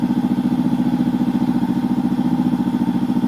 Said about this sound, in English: So I let it run most of the time till I see the RPMs drop and the sound goes lower.